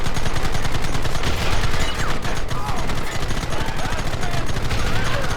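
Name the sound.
gunfire in video game Red Dead Redemption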